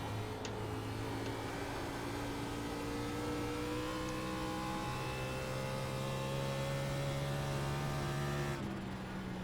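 A race car engine in NASCAR iRacing hums as a steady, rising drone that holds high, shifts once and carries on, loud and constant with no speech.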